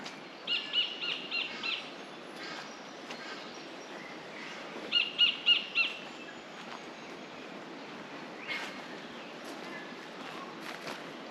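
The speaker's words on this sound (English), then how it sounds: "that's not a grey warbler, that's a kingfisher" Two bursts of loud, rapid repeated chirping calls from a kingfisher, a few seconds apart, over a soft outdoor hiss with faint distant sounds, at an arboretum near Gisborne, New Zealand.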